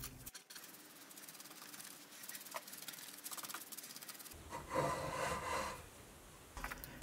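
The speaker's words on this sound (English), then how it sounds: "And after a few more scrapes" Hand scraper drawn repeatedly across the surface of a cheap milling vice during roughing, giving steady rasping scrapes that grow louder and brighter toward the end, heard close with no talking.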